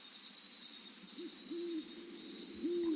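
An owl hoots twice in a garden at night over a steady, rhythmic chorus of crickets chirping in regular pulses, all fairly faint and with no one talking.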